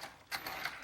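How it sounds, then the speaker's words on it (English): Gears of a motorized LEGO monster truck whir and click faintly at low speed, a brief soft mechanical ratcheting. "So now I'm going to turn down the speed on the monster truck"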